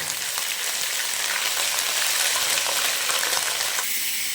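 Ginger and garlic fry in a pan over low flame, giving a steady, close, even sizzle of fine crackling that runs throughout with no voices.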